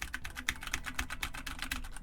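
A BlitzWolf BW-KB1 60% mechanical keyboard, connected to a laptop, is typed on with fast, crisp, evenly spaced clicking keystrokes, close and clear with no talking.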